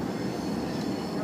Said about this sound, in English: We're on the train now to